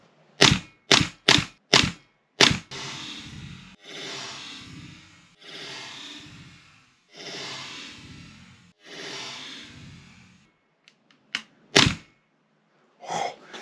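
A Tokyo Marui MWS airsoft gun with a maximum-recoil setup firing: five sharp cracks in quick succession, then a series of long breathy exhaling sounds, then a few more sharp cracks, close and alone.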